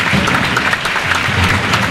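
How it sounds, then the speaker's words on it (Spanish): Spectators in the stands at a Spanish first-division men's handball match applaud steadily, a loud, dense wash of clapping that carries through without pause. "aplausos da grada a Balomán Culleredo"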